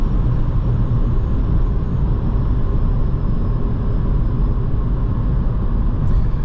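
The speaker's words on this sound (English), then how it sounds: "Excessive amount of wind noise." Steady roaring wind noise fills the cabin of a 2022 VW Taigo Style at highway speed, a dense, unbroken rush with low road rumble underneath, loud and constant with no talking.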